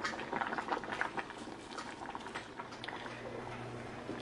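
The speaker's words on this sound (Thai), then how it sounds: "ก็ต้มไปเรื่อยๆนะคะจนกว่าเส้นจะสุกยากนิดนึงนะคะสำหรับเส้นข้าวปุ้น" Rice noodles boil in a pot of water with vegetable oil added, giving a steady close bubbling and rolling simmer throughout with small liquid pops.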